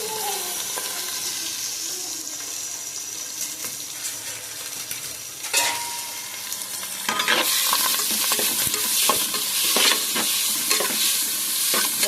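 Onion and tomato frying together in a pan, a steady close sizzle with clattering stirring that grows louder and brighter in the second half, no voices.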